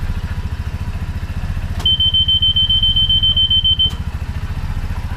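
A BigHorn golf car's reverse beeper sounds a steady, piercing high tone for about two seconds, ringing loud and close above the low, rhythmic chug of the idling cart.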